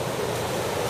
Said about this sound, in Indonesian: Ini sungai banjir